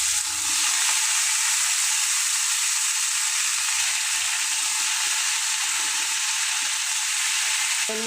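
Boiled, rinsed figs fry in hot oil in a pan for a vegetarian fig and potato curry, giving a steady, loud, close sizzling hiss that runs without a break. There is no talk.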